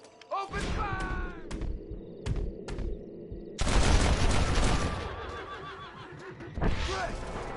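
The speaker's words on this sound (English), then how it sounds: "Open fire!" Gunfire in a Red Dead shootout: dense volleys of booming shots and thuds in bursts, with game voices talking over the din.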